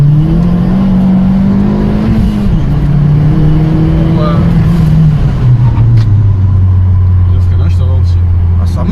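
A Dodge Caliber SRT4 engine pulls through the revs, a loud droning tone that rises and then falls, heard from inside the car while people talk over it.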